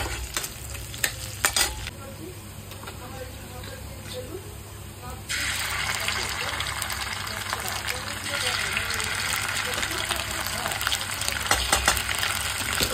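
Onions and a bay leaf fry in a pan, a soft sizzle that grows louder and denser partway through, with stirring scrapes and occasional knocks.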